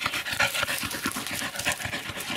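Close-up rapid panting from dogs, including a black Labrador and a Border Collie, on a walk, quick rhythmic breaths in steady bursts with faint jingling and movement around them.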